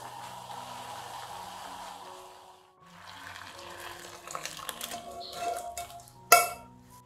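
Blanched broccoli being strained from a pot, with metal clinks and clatters and trickling, splashing water that builds toward a sharp clang near the end.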